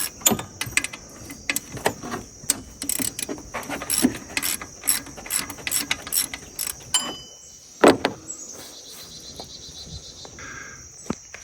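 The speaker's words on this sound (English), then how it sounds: "we're going to go ahead and loosen 2 bolts, which are 13 millimeter," A ratchet loosening the 13 mm bolts on the front of an S10 Blazer alternator, rapid bursts of close metallic clicking in quick runs, then a pause and a few more clicks, with a faint high whine in the background.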